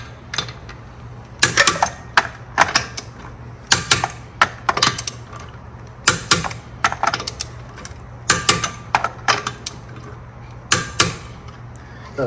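A torque wrench set to 87 foot-pounds clicks while wheel nuts on a 2017 Hyundai Elantra SE are tightened. Close, crisp clicks and ratchet bursts come in irregular clusters over a faint steady hum.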